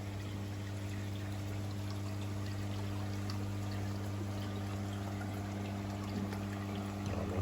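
Water trickles and splashes steadily from a pond filter shower at a newly built koi pond, a continuous close pour over a low steady pump hum, with no talking.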